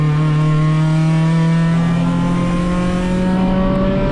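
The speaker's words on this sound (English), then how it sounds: "You can hear the bog in 4th gear." An Acura RSX race car engine on track holds a loud, sustained droning note in 4th gear, its pitch rising only sluggishly as it bogs, heard close from onboard without pause and with no voices.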